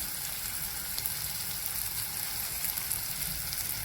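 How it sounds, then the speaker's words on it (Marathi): Soaked puffed rice goes into a pan of steamed tomatoes, giving a soft, continuous sizzle and crackle heard up close with no talking. "हे भिजवलेले मुरमुरे घालतो याच्यामध्ये।"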